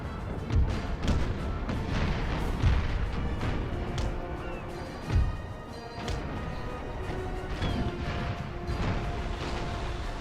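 Naval cannon fire booms across a sea battle in Napoleon Total War, with several heavy low thuds and crashes over a constant rumbling din, and one loud blast marking a sloop detonating partway through.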